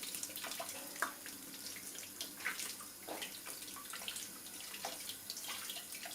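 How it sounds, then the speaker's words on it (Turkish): Cold tap water runs steadily over eggplants as they are peeled in a kitchen sink, a continuous hiss of splashing with small irregular plops and drips, close and fairly soft. "Şöyle soğuk suyun altına aldım."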